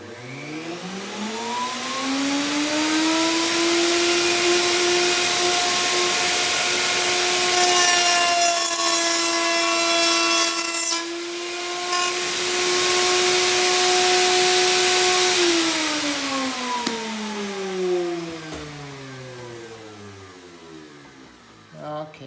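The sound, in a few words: router cutting sockets in wood for drawer construction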